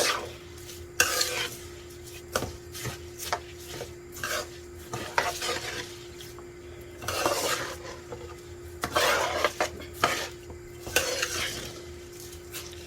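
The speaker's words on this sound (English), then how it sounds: "Now we're going to go ahead and give it a mix." Hotdogs sautéing in a pan on a turned-up burner are stirred with a utensil. Irregular scraping and clinking strokes come in bursts over a faint sizzle and a steady low hum, close by, with no talk.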